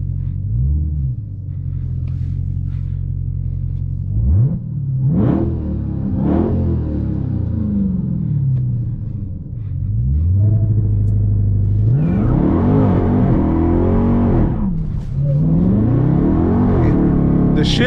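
A Dodge Hellcat Charger fitted with a Direct Connection stage kit rumbles low, then revs hard through several rising accelerations with distinct shift breaks, the engine loud and close throughout.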